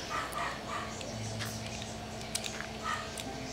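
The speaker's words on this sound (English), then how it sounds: "Why is your dog barking up a storm?" A dog barks in bursts somewhere off in the room, its yips faint and muffled under a dense hiss of background noise during a Minecraft multiplayer session.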